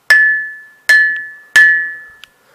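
A wooden spoon strikes a glass bowl three times at an even pace, each hit ringing with a clear sustained tone that decays, followed by a faint small tap.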